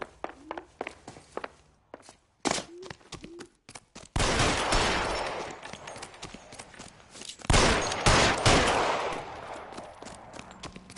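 Gunshots in L.A. Noire: a few sharp isolated shots early on, then loud sustained volleys of gunfire with echoing crackle that fill the rest of the scene.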